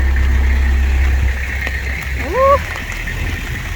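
Rain patters on an umbrella on a wet winter street in old-town Rhodes, Greece, with a steady hiss of traffic and a car passing close; a brief squeak rises near the middle.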